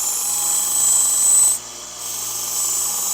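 The damaged tip of a Global kitchen knife is ground on a belt sharpener, a close, steady abrasive whine that briefly dips and softens midway before resuming, with no talking.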